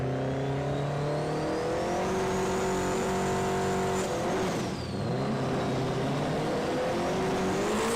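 Drag radial race cars, a single-turbo 4-cylinder against a V8 with multiple power adders, launch at Willowbank in Australia, engines revving and climbing loudly through gears as one passes, with a steady roar and no talk.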